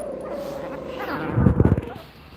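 Chihuahua puppies trade a quick flurry of yips, small barks and whimpers close by, following a thin high whine, with faint voices in the background.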